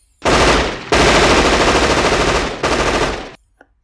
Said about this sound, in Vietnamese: nã một tràng tiểu liên nữa vào chỗ chàng phóng mình lúc nãy